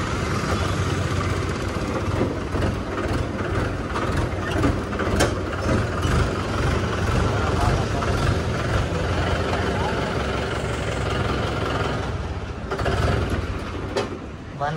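A parked tractor's engine idles with a steady, loud low rumble that runs unbroken throughout, while voices talk over it.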